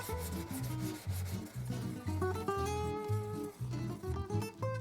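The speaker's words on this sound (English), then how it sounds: "So I'm just going to lap the back a few times on 400 grit, clean everything up." A rusty hedge shear blade is lapped flat on a 400 grit plate, making rhythmic close scraping strokes that rise and fall in steady back-and-forth passes with no voices.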